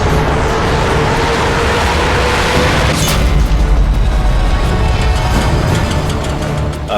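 Vehicle explosion in the video game Sniper Elite 3, a heavy rumbling boom with a sharp burst midway, sustained low roar and debris-like crackle fading over several seconds.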